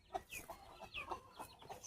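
Guinea fowl giving repeated harsh, chattering calls in short bursts, fairly close, with no talking.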